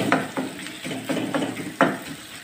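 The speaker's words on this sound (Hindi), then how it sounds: "मैंने इस तरह से करके मीडियम आंच पर कीमे को और टमाटरों को इन सब मसालों को फ्राई किया है" Minced meat with tomatoes and spices frying on medium heat, with repeated stirring scrapes and soft sizzling in short bursts, close and moderately loud.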